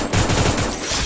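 Rapid automatic gunfire in the Free Fire battle royale game, a dense burst of repeated shots lasting about a second, loud and close with no talking over it.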